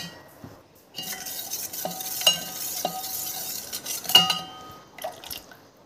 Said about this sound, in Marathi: आता हे साखर विरघळेपर्यंत आपण हे फेटूया।